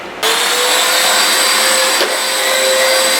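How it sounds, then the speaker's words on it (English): A household vacuum cleaner switches on abruptly and runs with a loud, steady, high-pitched whine that stays constant to the end, close to the listener. "here we are vacuuming."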